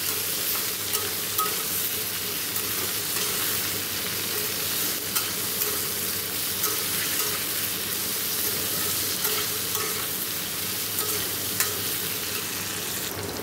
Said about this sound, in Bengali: দেখো ভালো করে একটু নেড়ে চেড়ে নিলাম।